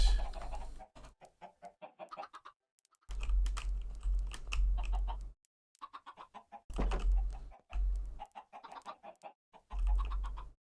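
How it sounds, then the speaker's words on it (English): Minecraft chickens cluck in short bursts, mixed with rapid clicking like keys being tapped, with brief silent gaps between the bursts. "Come now, chickens."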